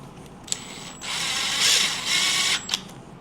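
Screws are power-driven into a Pin It racing TPI/TBI end cap with a spark arrestor. A short click, then about one and a half seconds of steady whirring and ratcheting from the driver, ending in another click, close up and alone.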